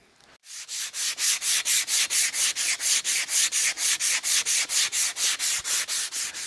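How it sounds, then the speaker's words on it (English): Emery cloth is rubbed back and forth on a metal part held in a vise, about twenty even, rhythmic scraping strokes, close and steady with no talking. "we're just gonna put that in a vise and work on it with some emery cloth until it fits"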